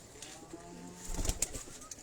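Pigeons of various breeds coo softly on a rooftop in Abbottabad, a low murmuring call with a faint flutter or rustle partway through.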